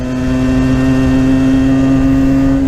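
A small engine, still in break-in, runs at steady high revs with a loud, continuous droning hum that holds one pitch throughout, and nobody speaks.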